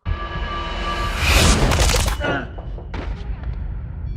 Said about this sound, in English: Was that even a shotgun?